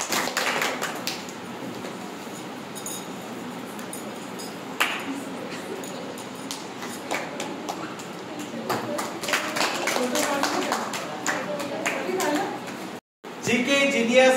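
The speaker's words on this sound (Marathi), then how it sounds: "टाळ्या वाजवून स्वागत." An audience at the GK Genius Award prize distribution applauds a prize winner. Dense, scattered clapping runs throughout, with voices mixed in and a brief dropout near the end.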